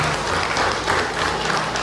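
An audience inside a Filipino church applauds, a short, fairly loud burst of dense clapping that continues evenly throughout.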